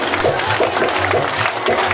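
An audience at a Hindu religious discourse on the Bhagavat claps steadily together, a dense, continuous round of applause filling the whole short stretch.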